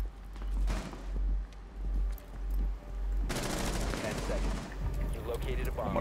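Rapid gunfire in Rainbow Six Siege, with a steady distant rattle of shots and thumps, then a louder dense burst of automatic fire continuing to the end, mixed with game footsteps and chatter.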